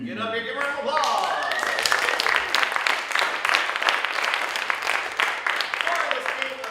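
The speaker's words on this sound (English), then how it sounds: "Get up here, give a round of applause." Audience applause and cheering greet improv performers Ethan, Ashley, Kristen and Rudy as they come up for a game of Chameleon at an improv showcase; dense steady clapping swells quickly and fills the room for several seconds, loud and close.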